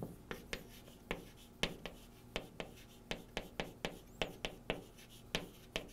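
Marker or chalk strokes tap and scrape across a board in a quick irregular series of short sharp ticks, close and fairly quiet, with no talking, while salt-water concentration figures are worked out.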